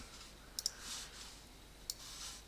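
A computer mouse clicks crisply close by, a quick double click, then a single click, then another single click at the end, over faint quiet room hiss.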